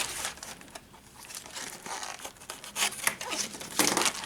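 A cardboard candy box crinkles and tears as its glued folds are pulled apart and cut, giving close, continuous scratchy crackling with sharper rips toward the end and no speech.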